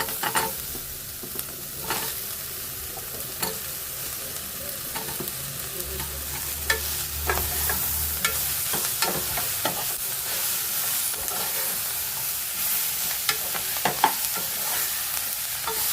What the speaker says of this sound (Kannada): ಈರುಳ್ಳಿ ಫ್ರೈ ಆಗಲಿ. ಸ್ವಲ್ಪ ಕರಿಬೇವು ಹಾಕ್ತಾ ಇದ್ದೀನಿ. ಕ್ಯಾಪ್ಸಿಕಮ್ ಹಾಕ್ತಾಯಿದ್ದೀನಿ.